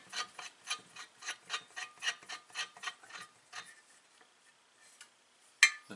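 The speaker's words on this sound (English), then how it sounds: "So you put this shaft on, thread it down" A shaft is threaded down onto the crankshaft of a Farmertec 365/372 chainsaw parts kit. A close series of quick metallic rubbing and ratcheting turns repeats evenly, then slows and fades, with one sharp click near the end.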